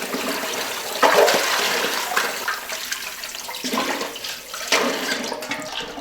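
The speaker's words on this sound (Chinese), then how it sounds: "所以说前面我先来处理一下，把鸭子洗了。" Water runs steadily from a tap while a farm duck is washed with cold mountain spring water, a loud continuous splashing gush with brief surges as the bird is moved under the stream, no speech.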